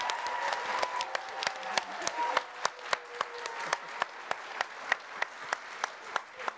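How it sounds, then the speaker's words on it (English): An audience applauds with sustained clapping at an evening zoo fundraiser event, steady and moderately loud with individual claps standing out. "Can we give a round of applause for them?"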